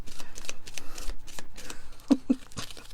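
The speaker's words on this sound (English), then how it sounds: "Was that only 2 shuffles?" Cards from a mindfulness deck are shuffled by hand, a quick run of crisp riffling flutters and soft slaps, close and fairly loud, with a couple of sharper taps near the end.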